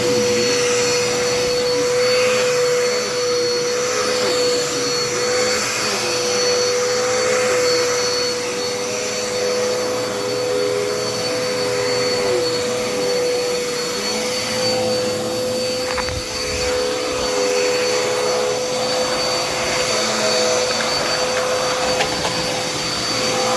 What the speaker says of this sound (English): Let's do some vacuuming here.